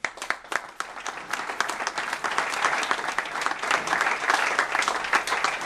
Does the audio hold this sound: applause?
yes